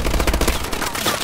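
Rapid, steady turret gunfire in Call of Duty Advanced Warfare, a loud continuous burst of automatic shots with dense rattling rhythm, no talk over it.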